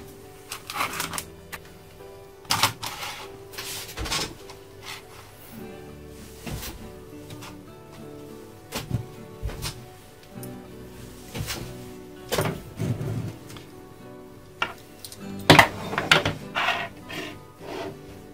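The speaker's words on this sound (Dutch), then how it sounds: "En we zien dat het perfect kan ratelen." A Zebra ratchet ring spanner ratchets in close, quick bursts of dry clicking that stop and restart over and over, with a few knocks and thunks from handling in between and no speech.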